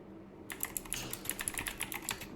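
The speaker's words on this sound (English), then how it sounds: "so I'm going to type in" Computer keyboard typing out a Windows PowerShell command, a quick steady run of light clicky keystrokes close up with no talking.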